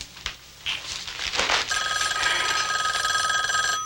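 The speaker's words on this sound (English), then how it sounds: "Hate it when the phone rings right in the middle of lunch" A telephone bell rings loudly at lunchtime, a sustained bright metallic trill starting after a few clattering sounds and continuing to the end, with no speech.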